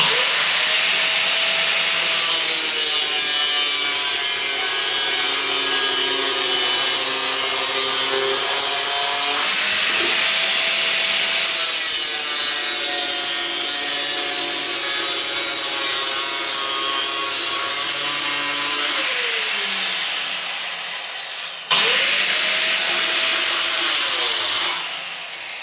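A power cutter saws through a metal car part along its inside edge during a 1930s barn-find rebuild into a pickup, giving loud, steady grinding runs with shifting whine that stop briefly and start again.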